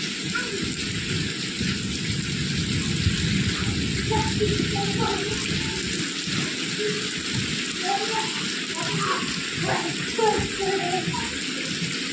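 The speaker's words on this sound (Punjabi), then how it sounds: "ਬਹੁਤ ਤੇਜ਼ ਜਿਹੜਾ ਮੀਂਹ ਅੱਜ ਆਇਆ" Heavy rain pours steadily in a dense, constant hiss, with faint scattered tones and no pauses throughout.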